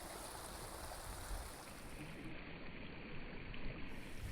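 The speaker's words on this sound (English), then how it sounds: "Air bubbler's working good." A koi pond's air bubbler churns steadily in an outdoor water garden on a cold spring day, a continuous close wash of bubbling, splashing water with no talking.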